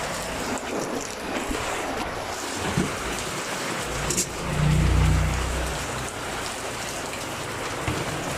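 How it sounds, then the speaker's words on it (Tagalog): Steady heavy rain hisses throughout, with a low rumble swelling briefly in the middle and no talking. "Umuulan po ngayon. Umuulan."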